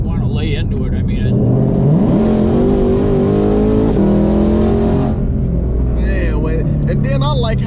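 A Ford GT500 with a supercharger and a clutched pulley revs hard nearby, the engine note climbing and holding into a loud whine before easing off, with people talking around it.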